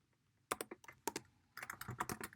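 Rapid, irregular bursts of clicking keystrokes on a computer keyboard, loud and close, with a short pause before a dense closing flurry and no talking.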